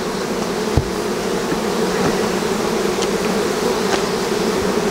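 Bees hum loudly and continuously around an open hive during a harvest of capped, mature honey, a dense even drone with a few close passes standing out.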